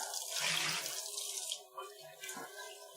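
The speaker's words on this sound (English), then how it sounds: "I rinse out all the coffee grounds from it." Water from a tap pours into a jug as coffee grounds are rinsed out, a close, continuous hissing splash with brief gurgles as the flow shifts over about three seconds, with no talk.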